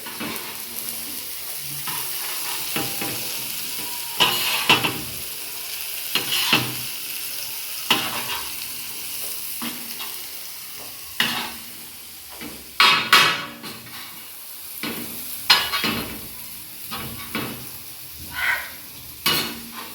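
Goat lungs (dhobba) fry in a pan over gas while a utensil stirs them, giving a steady sizzle with repeated clinks and scrapes against the pan throughout.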